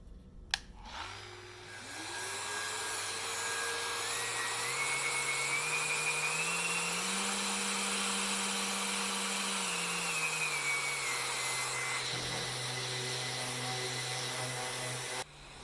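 A Festool ETS 125 random-orbit sander with a vacuum hose attached starts up and runs steadily with a whining hum, its pitch rising partway through and then settling before it spins down, loud and close with no talk.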